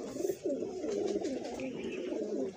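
A pigeon coos in a soft, repeated rolling rhythm, close and steady, with faint background noise.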